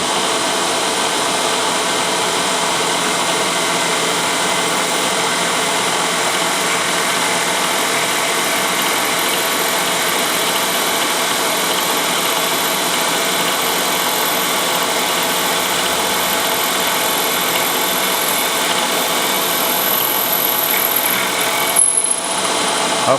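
A milling machine cuts a metal motorcycle part with a steady, loud, continuous grinding whir that holds unchanged throughout, with a brief disturbance near the end.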